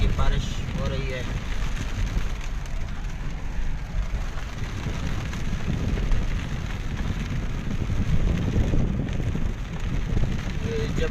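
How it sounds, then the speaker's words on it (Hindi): Steady rain falls outdoors in Madina near Mount Uhud, a dense continuous hiss with gusty wind buffeting the microphone throughout. "मदीना मुनव्वरा में माशाअल्लाह रहमत की बारिश हो रही है"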